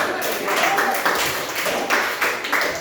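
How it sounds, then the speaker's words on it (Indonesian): A classroom of children claps together during a lesson, a short burst of brisk, uneven applause lasting a few seconds with faint voices mixed in. "Iya, tepuk tangan"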